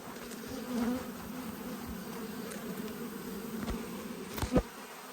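Italian honey bees buzz steadily around an open backyard hive during an inspection, a dense continuous drone with a few louder passes close by near the end.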